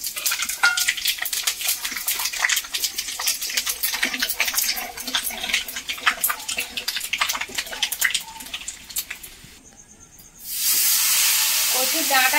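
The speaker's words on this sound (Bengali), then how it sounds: "5 ফোড়ন, শুকনো লঙ্কা, তেজপাতা একসঙ্গে নিয়েছি, এবারে আমি দিয়ে দেবো তেলের মধ্যে।" Whole spices with dried chilli and bay leaf hit hot oil for a Bengali prawn and taro-leaf dish, giving a steady close crackling sizzle with stirring that dips briefly before a loud fresh burst of frying.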